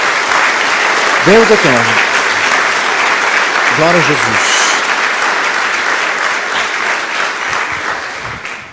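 A church congregation claps loudly and continuously while a preacher calls out praise over the applause, which slowly fades near the end.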